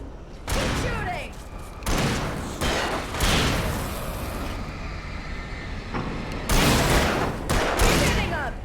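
Gunfire in the Alan Wake video game crashes out in several loud, abrupt bursts separated by short pauses, with a voice talking in between.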